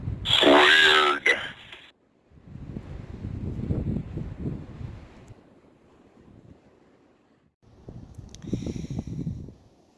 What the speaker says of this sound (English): It may be windy